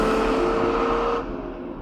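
Lamborghini Miura P400 V12 engine holding a steady, close drone with a strong tonal hum, dropping slightly in level partway through.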